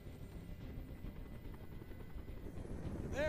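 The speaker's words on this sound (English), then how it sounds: "Tell that helicopter to get out of here." A helicopter in the Detroit: Become Human video game gives a steady, loud rotor rumble and whir that holds for the full stretch, with nobody speaking over it.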